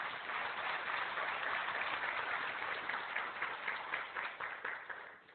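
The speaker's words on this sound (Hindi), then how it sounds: "तो उनके लिए एक जोरदार ताली होना चाहिए।" Loud, sustained audience applause at a family celebration fills the space, steady dense clapping that tapers off near the end.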